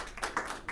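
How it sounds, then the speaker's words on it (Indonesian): Schoolchildren in a classroom give a brief, soft burst of hand clapping, a few scattered claps heard fairly quietly. "Tepuk tangan anak-anak"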